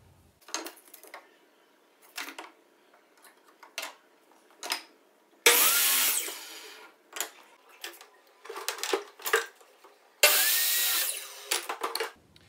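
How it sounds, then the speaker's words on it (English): A saw cuts two wooden boards to length, with two loud, dense bursts of a few seconds each. Sharp clicks and knocks from handling the wood fall in the quiet gaps between the cuts. "I'm going to go cut two boards to 13 5/8 of an inch."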